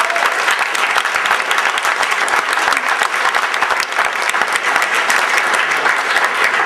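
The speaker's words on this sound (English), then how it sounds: "give yourself a round of applause for that" An audience at a veterans' event applauds, a loud, continuous burst of dense clapping that holds steady throughout with no speech over it.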